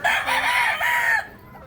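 A rooster crows loudly nearby in a single drawn-out call, breaking into a clucking tail before falling quiet.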